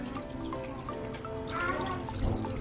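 A little water is poured or trickled into a pastele mixture in a kitchen, a steady close dribble running the whole time with faint clatter and no talk.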